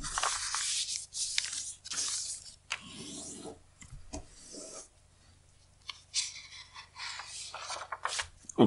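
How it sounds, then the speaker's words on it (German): Sheet of paper folded in half for a paper airplane, close crisp rustling and creasing rubs in several short bursts with quiet gaps between. "Wir falten das Papier einmal in der Hälfte."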